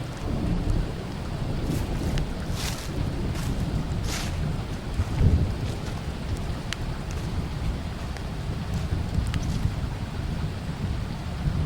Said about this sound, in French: L'orage arrive.